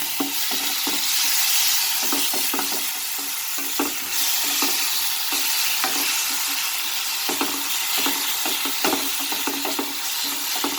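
Chicken curry with potato and peas sautés with turmeric powder in a pan, giving a steady loud sizzle broken by frequent scraping stir strokes, with no talk.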